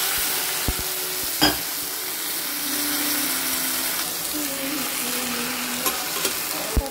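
Boiled amaranth leaves tipped into a sizzling tempering of chilli and curry leaves, frying steadily with a few sharp stirring clatters of a spoon against the pan, close and fairly loud, no talking.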